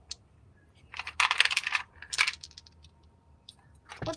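Dice tumbling and clattering across a hard surface in two short bursts, close and fairly soft, followed by a faint final rattle; no voices.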